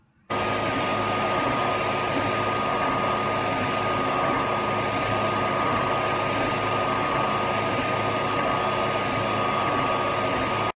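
A 3D printer runs with a steady whirring hum and faint motor whine, continuous and unchanging throughout, fairly loud and close.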